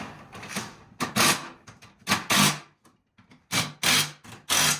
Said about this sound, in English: grab your 1/2 inch impact. You're gonna tighten everything down.